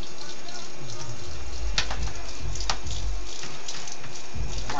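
Tap water runs steadily into a sink while a plate is washed, with a voice and an adult speaking over the flow and low thumps of handling.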